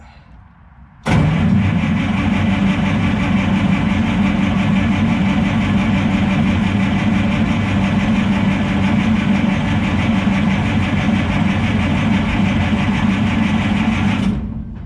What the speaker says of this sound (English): I can crank this sucker with the fuel shut off and see if I have oil at that spot.